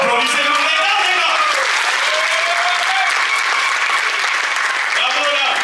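An audience at a business meeting applauds loudly and continuously, a thick unbroken wash of clapping with a few voices calling out over it.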